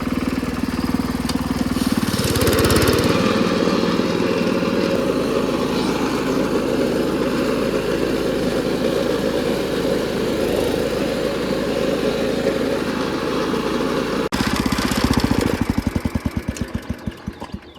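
A Wheel Horse lawn tractor mower engine roars steadily and close while cutting thick grass, its pitch shifting as it works, then revs up and sputters toward the end.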